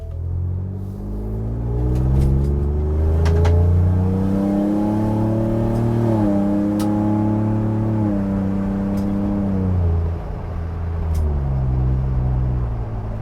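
A 2021 Ford Bronco with a 2.7-liter twin-turbo EcoBoost engine and an MBRP louvered muffler exhaust rumbles loud and close, revving up steadily and holding a deep droning note before easing back down, with no talking.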